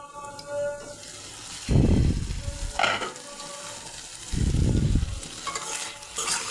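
Spice paste and spring onions for a tilapia dish sizzle in a pan as they are stirred, with two loud bursts of scraping and frying over a steady background hiss.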